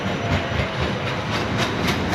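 A tram rolls past on its rails in Poland, a continuous rumbling clatter with rhythmic wheel clicks and a faint high electrical whine, fairly close.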